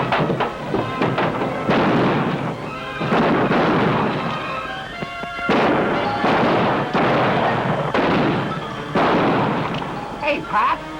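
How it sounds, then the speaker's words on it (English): Gunfire from down the street in an old Western, heard as repeated loud bursts of shots and booming reports with echoing tails, spaced a second or two apart. "Somebody's always shooting at us."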